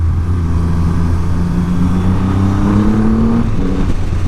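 A 2020 Triumph Rocket 3 motorcycle accelerating hard, its deep engine roar loud and close, pitch climbing steadily as the throttle opens, with no talking.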